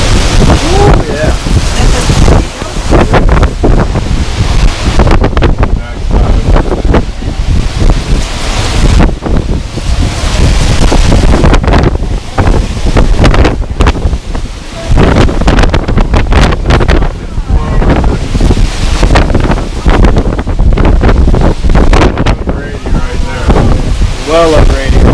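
Strong Hurricane Irma winds gust and roar continuously close to the microphone, buffeting it loudly throughout, with a few brief moments of voice mixed into the storm noise.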